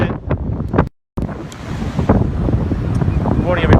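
Wind buffets the microphone on a blustery seaside shore as ocean waves and surf roll in steadily, a loud, continuous wash with one brief dropout near the start.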